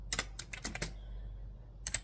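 Rapid taps on a phone's on-screen keyboard: a short burst of crisp clicks in the first second, a pause, then two more taps near the end, close and fairly quiet with no talking.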